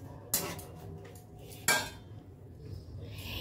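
A spoon stirs ingredients with soy sauce in a pan, giving two distinct metallic clanks against the pan between quieter scraping and a faint background hum, close and alone.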